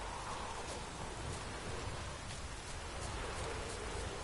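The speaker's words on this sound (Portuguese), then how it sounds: "Vai vir chuva?" Rain falling in the video game The Witcher 3: Wild Hunt, a steady dense hiss of downpour with no break, moderately loud and alone.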